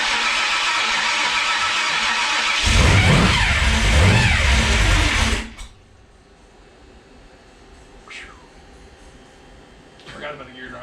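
A big block engine cranks and fires, then roars through a loud revving burst for a few seconds before cutting off abruptly, leaving quiet workshop sounds with brief faint clatters afterward.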